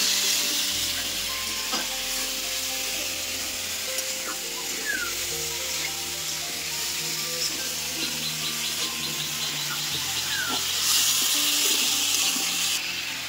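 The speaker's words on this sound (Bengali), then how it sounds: "কুমড়োটা আমি একটু কষিয়ে নিয়েছি" Pumpkin sautés with cumin powder and ginger paste in a pan for a Bengali katla fish curry, a steady close sizzle and hiss running throughout with occasional spatula scrapes and faint clinks.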